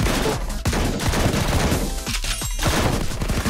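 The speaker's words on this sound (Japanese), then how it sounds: "全弾発射。" Heavy gunfire from the anime-style mobile game Blue Archive, an all-rounds barrage of rapid shots and impacts layered with game effects, loud and nearly continuous with brief punchy breaks.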